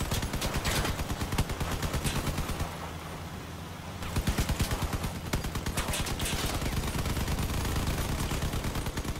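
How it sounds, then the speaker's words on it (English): Rapid bursts of gunfire rattle continuously against the player's armored vehicle in the online vehicle-combat game Crossout, loud and dense with a brief lull in the middle before the shots resume. "I'm getting shot in the back."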